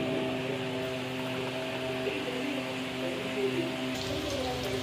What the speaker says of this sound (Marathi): आता तेल गरम झाल्यानंतर मी हे बटाटे वडे तळणार।